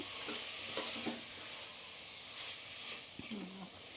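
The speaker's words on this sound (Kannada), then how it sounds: "ಅದು ಹಾಕ್ಕೊಂಡು ಇದು ಸ್ವಲ್ಪ ತಿರುಗಿಸ್ಕೊಳ್ಳೋಣ" Quiet sizzling of biryani powder and spices frying in a pan, with a spoon stirring and scraping at intervals.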